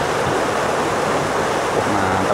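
River water at Umbulan Tanaka rushes in a steady, broadband wash, recorded from a DJI FPV drone flying along the river, with some wind buffeting mixed into the continuous flow.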